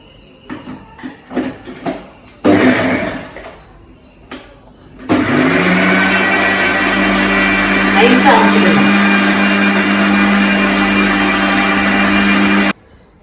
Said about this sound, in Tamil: தக்காளி நான் போட்டதுனால தக்காளியோட அரைச்சிக்கிறேன் ஒரு அரை அரைச்சி எடுத்துக்கிறேன்